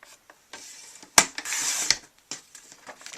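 Paper cutter blade slicing a strip of paper, one short crisp rasp followed by a longer grinding cut lasting under a second, with a few faint clicks and handling noises before and after, close and fairly quiet.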